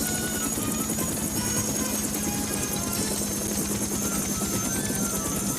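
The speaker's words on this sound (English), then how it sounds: "The choppers are circling." Helicopters circling in the animated Where on Earth Is Carmen Sandiego series, a dense continuous rotor chop and engine whine holding steady and loud throughout, with no voices.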